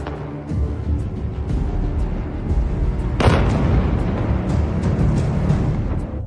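A deep, rumbling blast hits midway through a steady roar of low noise, then a sustained heavy rumble continues afterward.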